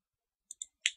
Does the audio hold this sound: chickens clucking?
no